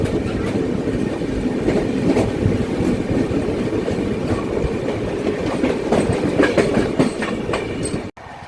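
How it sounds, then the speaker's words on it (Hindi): Ahmedabad Howrah Superfast Express train passing close by, a loud steady rumble with rhythmic clickety-clack of wheels over rail joints throughout, cutting off abruptly near the end. "यहाँ पर हमारे सामने से आ रही है train number 12833 Ahmedabad Howrah superfast express"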